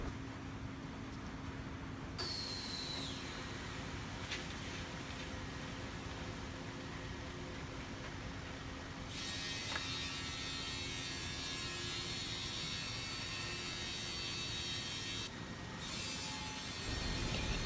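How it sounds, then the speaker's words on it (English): A CNC machine trims the four edges of a magnesium sulfate (MgSO4) board, giving a steady, dense grinding and cutting roar with a high whine that shifts partway through, continuous and fairly close. "we will use this CNC machine to cut in the four edges of MgSo board according to customer's requirement size"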